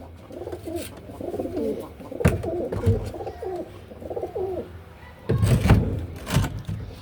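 Pigeons coo in a close, low, rolling series of repeated phrases, with a few thumps and bursts of scuffling noise breaking in near the end.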